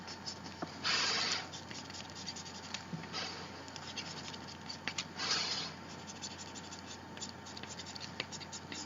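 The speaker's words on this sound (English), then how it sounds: "I'm just sketching in where the shadows are." A pastel stick scratches across paper while shadows are sketched in, giving soft, dry scraping strokes in short bursts, two of them louder, over a quiet steady background hum.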